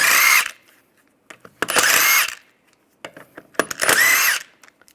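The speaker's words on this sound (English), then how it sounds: "Then using the same 17mm, we're going to take off the lug bolts." A power tool with a 17mm socket spins lug bolts off a Volkswagen Beetle wheel in three loud, close bursts of whirring, separated by short pauses with clinks and handling noise.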